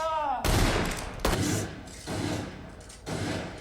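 Gunfire from the film Django Unchained: several loud, sharp blasts in quick succession, each trailing into reverberant rumble, with brief gaps between volleys and no talk over them.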